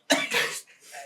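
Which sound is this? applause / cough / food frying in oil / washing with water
cough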